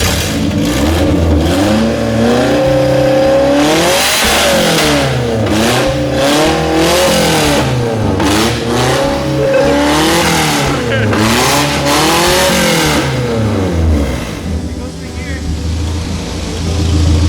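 A Nissan 240SX with a rebuilt KA24E engine revs hard in a burnout while raised on jack stands, the loud engine rising and falling in repeated aggressive revs, with people talking and shouting over it.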